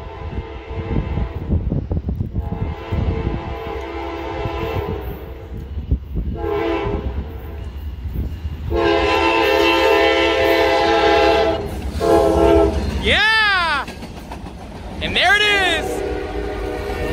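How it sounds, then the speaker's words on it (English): Norfolk Southern NS 901 FRA/DOT track inspection train passing with rumbling wheels, then sounding its horn in long loud blasts that bend in pitch as it goes by, with brief talk early on. "But that horn is beautiful."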